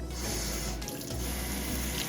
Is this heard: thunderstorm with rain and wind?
no